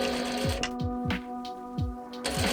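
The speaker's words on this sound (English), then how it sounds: "put it under my sewing machine" Mechanical whirring with a steady hum and repeated bursts of motor activity, like a sewing machine running in short stitching runs.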